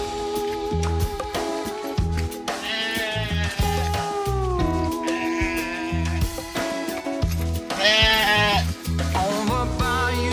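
Sheep bleat over a loud, steady musical bed, with several drawn-out wavering calls spread through the stretch.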